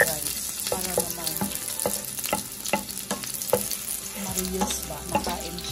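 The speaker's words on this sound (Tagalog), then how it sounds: "Kailangan ko siya i-fried rice." Leftover rice frying in a pan, a steady sizzle with scraping stir strokes at a regular rhythm, close and moderately loud, with a few words spoken briefly over it.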